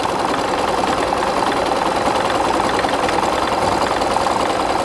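A sewing machine top-stitches fabric straps, running at a fast, even, continuous whir close by with no pauses.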